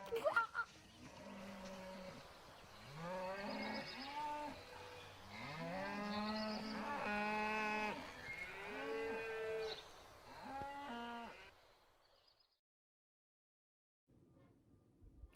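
Cattle low repeatedly in a long series of drawn-out, harmonic moos, loud and close, with overlapping calls for about eleven seconds before falling silent.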